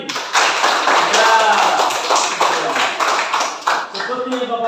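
Classroom applause, a dense patter of many hands clapping together for several seconds, loud and close, gradually thinning toward the end as a voice begins speaking.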